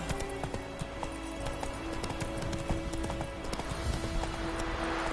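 Horse hooves clip-clop at a trot in Final Fantasy XV, a quick even patter of hoofbeats over a steady background hum, moderately close and continuous.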